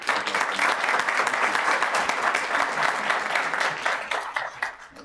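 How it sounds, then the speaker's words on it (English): Applause from the audience at a town council meeting, dense steady clapping that holds for about five seconds before thinning out at the end. "another round of applause for these businesses"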